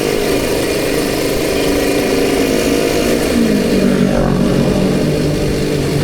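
A Suzuki Satria two-stroke motorcycle engine runs while riding through a city, a loud, continuous buzzing drone close up that shifts down in pitch midway as the revs change.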